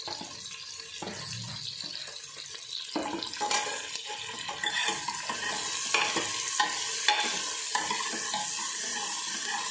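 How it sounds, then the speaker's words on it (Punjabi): Bottle gourd and onions fry and sizzle in a pan, with steady stirring scrapes and a hiss throughout, close and moderately loud, with a brief watery splash near the start. "ਸਬਜ਼ੀਆਂ ਨੂੰ ਅਸੀਂ ਥੋੜੀ ਦੇਰ ਲਈ ਫਰਾਈ ਕਰ ਲਏ"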